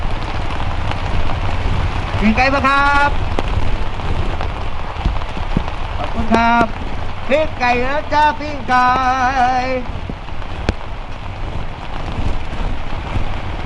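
Steady rain pours down throughout, a continuous close hiss, while a street vendor selling grilled chicken calls out loudly in short sung bursts over it.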